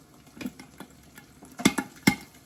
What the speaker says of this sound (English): Can you hear that sizzle?